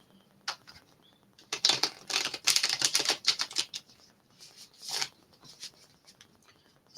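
Crisp riffling and slapping of tarot cards in a few quick bursts, close to the mic, with short pauses between shuffles and no talking.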